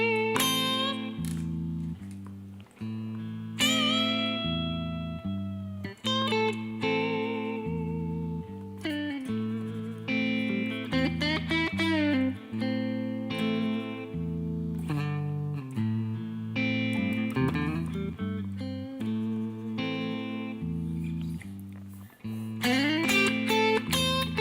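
An electric guitar with light overdrive plays a run of single notes and bends up and down a minor blues scale, steady and fairly loud with no voices.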